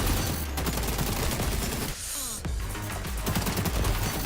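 AK-47 automatic fire in the shooter XDefiant, rapid bursts rattling through most of the stretch with a brief lull in the middle, moderately quiet and without talk.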